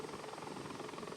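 A Bell 412 helicopter in flight with the throttle rolled off before autorotation gives a steady, faint rotor and engine drone with an even pulsing beat throughout.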